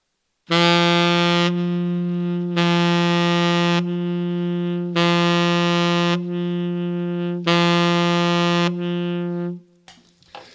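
Four sustained saxophone notes, each held about a second with short breaks, the tone dulled and softened by half-tonguing with the tongue resting on the reed, played close and fairly loud.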